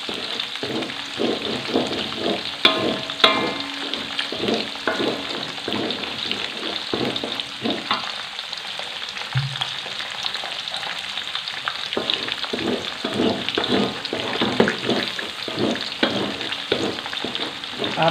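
Shallots and garlic fry in a hot pan, a steady dense sizzle with scattered crackles and occasional scraping stirs running throughout, close and fairly loud.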